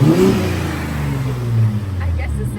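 A Ford Raptor pickup truck's exhaust rumbles loudly and steadily nearby, with deep low-end growl through the whole moment and voices talking over it.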